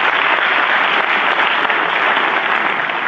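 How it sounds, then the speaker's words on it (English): A lecture audience gives a full round of applause, dense and steady, with close, loud clapping that holds at the same level from start to finish. "she deserves a round of applause for those of you who know her"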